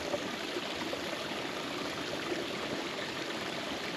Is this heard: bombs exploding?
no